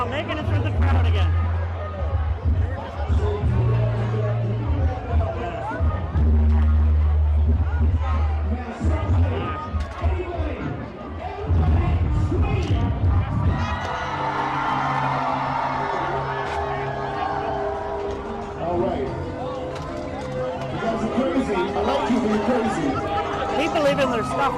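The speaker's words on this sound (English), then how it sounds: "Now making it through the crowd again." A dense crowd chatters at the Moonlight Bazaar night market in Saint John, with many overlapping voices forming a constant close hubbub, occasional whoops rising above it, and a nearby person talking over the babble.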